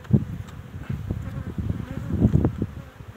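Honey bees buzz around an open beehive being worked before the acacia bloom, a low droning hum with brief louder swells as insects pass close, steady throughout.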